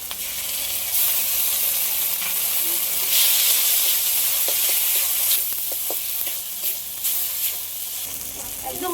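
Mustard paste frying in a pan with fish and eggplant, loud continuous sizzling and hissing broken by occasional utensil scrapes and clicks of stirring, with no talk.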